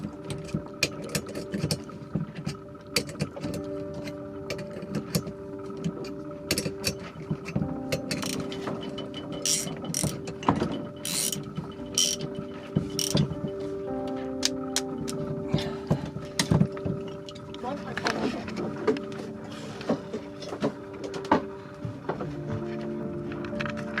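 A mechanic works on a boat's alternator, producing steady clicking and ratcheting tool sounds with metallic taps and clanks over a continuous low mechanical hum, close and busy throughout.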